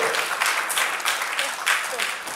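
An audience applauds in welcome for an ambassador at a Yoruba Day event, a moderate wash of clapping with a voice talking over it.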